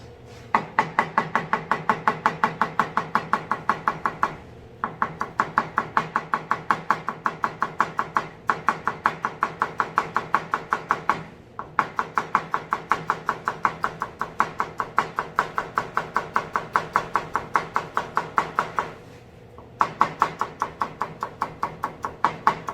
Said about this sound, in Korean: 가능한 한 고운 채로 하는 게 좋아요